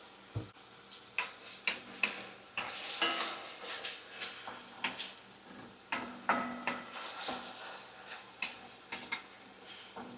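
Cabbage sautéing in a pan with garlic salt, a steady soft sizzle under repeated scraping and stirring clinks of a utensil against the pan, close and fairly quiet with no talking.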